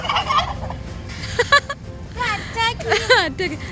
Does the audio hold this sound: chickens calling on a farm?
yes